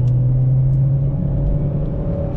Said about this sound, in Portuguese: é um carro que vai ganhando velocidade